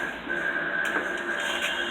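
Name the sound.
vacuum pump evacuating car AC system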